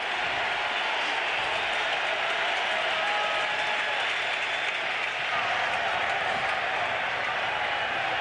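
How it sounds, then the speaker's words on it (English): A hostile stadium crowd roars at a 2004 NFL football game, a loud, dense, unbroken wall of crowd noise throughout, with a commentator's voice faintly beneath. "In front of a very hostile crowd, a lot of noise"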